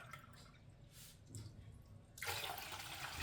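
Faint water trickling into a yogurt and buttermilk mixture for besan kadhi, then a louder steady pour that rushes in and continues to the end.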